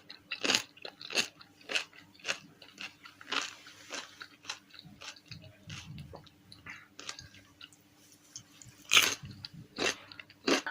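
Crisp, crunchy bites into a quick homemade pickled cucumber, repeated sharp snaps followed by close-up chewing, loud and near with no talking.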